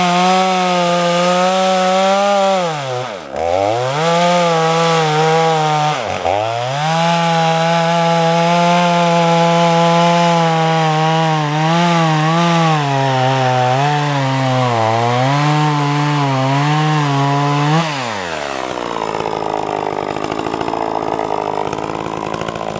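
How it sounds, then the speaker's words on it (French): Freshly sharpened chainsaw cutting through a large tree stump, engine roaring loud and close under steady load with brief dips in pitch, then revving down as the cut ends. "Elle coupe bien, la tronçonneuse, regardez."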